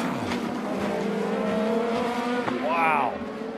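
Race car engines roar and tires squeal as Simon Pagino's car crashes and barrel rolls during a motorsport race, a continuous loud mechanical din with a rising whine near the end, under excited commentary.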